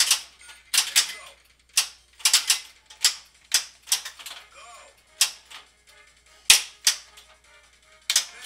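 Gunshot effects from a Stern Sopranos pinball machine (2005), a string of sharp loud pops in irregular bursts with short electronic tones and a brief voice clip between them.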